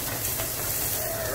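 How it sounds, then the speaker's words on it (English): Onion being stirred in a hot pan while cooking baked red fish with spicy coconut tomato cream sauce, giving a steady, close, broadband sizzle and hiss with light scraping throughout, no talking. "Get it a nice little stir."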